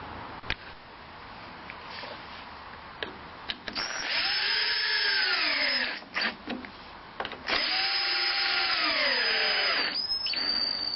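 A power drill drives screws to fix a band saw rip jig to the table, heard as two long whining bursts whose pitch rises and falls as the screws bite, with brief clicks and short trigger pulls around them.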